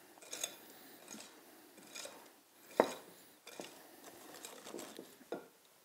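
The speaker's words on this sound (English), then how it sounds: "Just give this a good mix." A spoon stirs almond rhubarb cake batter with flour in a bowl, a soft scraping and clinking at close range in irregular strokes, with one sharper knock against the bowl partway through.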